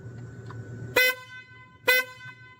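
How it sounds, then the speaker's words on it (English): A car horn honks twice in short, sharp blasts about a second apart, loud and close against a quiet engine hum. "Oh, my horn."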